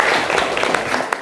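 Audience applause breaks out for a fan at a lively live show, a dense burst of clapping with some crowd noise mixed in.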